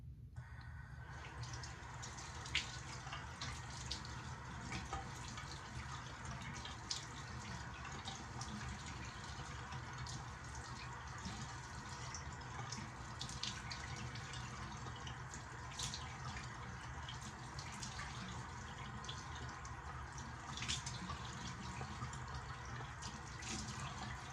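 Tap water runs steadily from a bathroom faucet while someone rinses soap off a freshly shaved face, a continuous low hiss and splash with faint drips and no talking.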